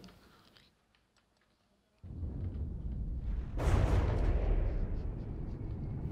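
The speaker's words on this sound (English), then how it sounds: "Let's shoot it with heat." HEAT shells striking an armored craft in the video game From the Depths, heard as a sudden heavy burst of booming fire after a near-silent start, then a louder sustained roar of impacts continuing to the end.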